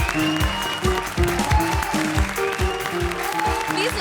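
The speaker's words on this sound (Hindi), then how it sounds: "जोरदार तालियां सिद्धार्थ और भारती के लिए।" Audience applause on a Hindi television comedy show, loud continuous clapping with rhythmic music and cheering blended over it.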